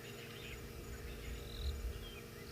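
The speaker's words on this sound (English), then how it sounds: "Lots of crickets." Crickets chirp faintly at dusk in the South African bush, a soft steady trill with a few higher chirps, distant and quiet over low background rumble.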